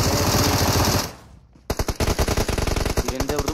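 Video game automatic gunfire: a loud sustained burst, a brief drop to near quiet, then a rapid, evenly spaced string of sharp close shots that continues to the end.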